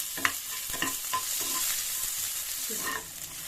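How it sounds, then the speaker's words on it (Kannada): Onions, chili and curry leaves frying in a pan for a dhaba-style chana dal tadka, giving a continuous bright sizzle broken by several close stirring scrapes of a spoon against the pan, with no voices. "ಫ್ರೈ ಮಾಡ್ಕೊಳ್ಳಿ."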